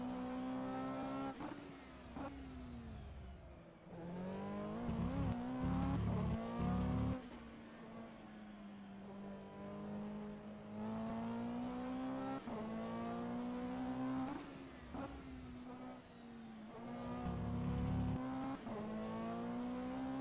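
A GT3 race car in the rFactor 2 racing game at Valencia, its engine note climbing and dropping through repeated revving and gear shifts, running loud and continuous from start to finish, with brief squeals as it corners.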